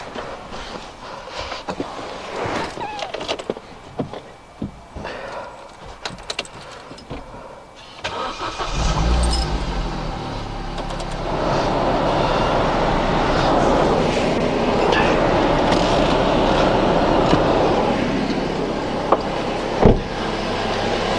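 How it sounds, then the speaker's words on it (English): A Vauxhall Corsa petrol engine turns over and catches with its coolant cap off, then settles into a steady, even idle that carries on alone after some quieter handling noises. "So we'll leave the cap off, start her up, let it get up to temperature"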